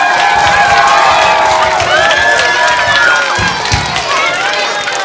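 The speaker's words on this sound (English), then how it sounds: "so give yourselves a round of applause." An audience at a school vocal concert applauds, with loud clapping mixed with cheering and children's shouts in a lively, crowded hall.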